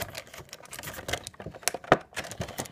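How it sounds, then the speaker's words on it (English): Scissors cutting open the packaging of a Transformers Combiner Wars Vortex toy: a dense run of crisp snips, clicks and plastic crackles, close and fairly quiet, with one sharper snap in the middle. "Sadly, I had to grab me a pair of scissors to open her up."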